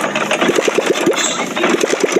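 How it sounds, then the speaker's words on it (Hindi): A Hero Passion Pro motorcycle with a starting fault cranks and sputters close by, a rapid uneven chugging of engine pulses that never settles into a steady idle. "देख सकते हैं किस तरह से स्टार्ट हो रही गाड़ी है।"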